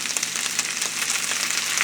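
Fresh greens frying in a pan after a splash of Bragg's raw unfiltered vinegar, a dense continuous crackling sizzle with quick spitting pops, close and steady with no talk.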